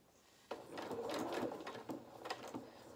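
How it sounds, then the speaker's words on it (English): Sewing machine stitching opposing fabric curves together on a tight curve for a doll's sailor dress, running in short close bursts of rapid mechanical whirring and needle clatter. "It's a very tight curve, and as I say, we're just sewing opposing curves together."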